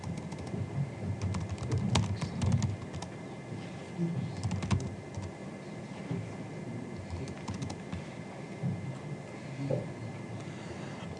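Fingers tap across a computer keyboard in quick irregular bursts, close and clear, with short pauses between runs of keystrokes.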